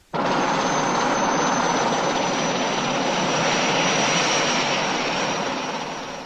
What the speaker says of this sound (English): I was airlifted to Morocco's front lines by Army helicopter.